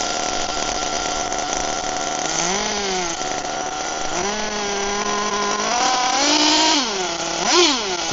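An HPI Firestorm nitro RC truck's small engine buzzes loudly and steadily, rising and falling in pitch with several quick revs and throttle blips before a final sharp rev.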